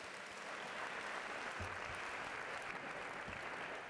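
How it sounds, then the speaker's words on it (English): An audience at a Lunar New Year celebration in San Francisco City Hall gives a round of applause, a steady, even wash of clapping from a large crowd at moderate distance. "One more round of applause."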